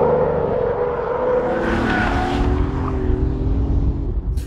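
The small three-cylinder engine of a BMW i8 revs loudly while the car drifts, its note rising and sliding through changing pitches in a sustained, close roar that lasts the whole stretch.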